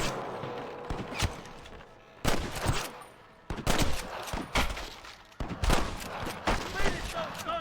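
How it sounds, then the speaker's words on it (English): A gunfight in the western game Red Dead Redemption, with bursts of rifle and pistol fire at irregular intervals, some loud and close and some more distant. Voices and creaking mechanical noises run between the shots. "Are you gonna shoot any of these rustlers, boy?"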